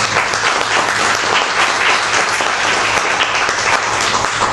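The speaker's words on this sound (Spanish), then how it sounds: "Por favor, un aplauso." Dense, loud applause from an audience at a Spanish-language book presentation, steady clapping throughout with no speech over it.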